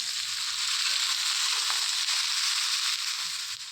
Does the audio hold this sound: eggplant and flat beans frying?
yes